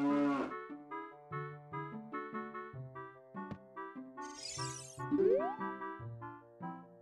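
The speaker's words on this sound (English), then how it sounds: "the big present that was too heavy to give to us is a cow" A cow moos in the Ocarina of Time video game, a low call rising in pitch over steady, tinkling game music.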